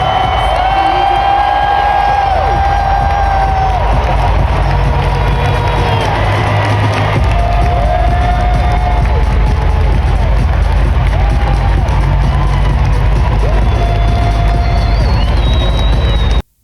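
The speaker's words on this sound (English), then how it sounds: "So you can hear it's cheers for the United States." A packed stadium crowd cheers for the United States, a loud, continuous roar with whistles and shouts that holds at full level for the whole stretch.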